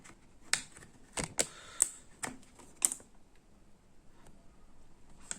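Plastic cellphone case being pried open during an LCD display replacement: a scattered series of crisp clicks and snaps, close and fairly quiet, with irregular spacing.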